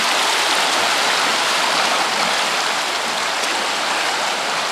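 A river rushes through a gorge beside Pitt Lake hot springs, a dense continuous hiss of fast water, loud and close, with no talk.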